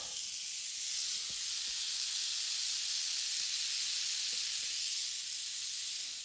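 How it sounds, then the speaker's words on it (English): Steady hiss of food sizzling in a hot pan, loud and close, with a few faint clicks and no talking. "Ah, you hear that sizzle?"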